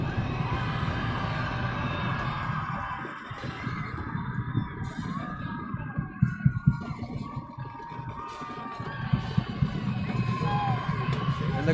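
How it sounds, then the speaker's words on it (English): A homecoming high school football crowd cheers and roars continuously in a large outdoor stadium, with scattered shouts and whoops rising above the steady wall of noise. "The crowd is going noise crazy here."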